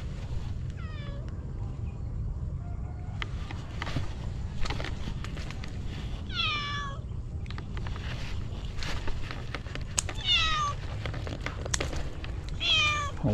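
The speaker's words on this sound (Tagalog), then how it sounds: "May bantay tayong pusa." A cat meows several times at a farm during an ampalaya harvest, short rising and falling cries spaced a few seconds apart over a steady low background rumble.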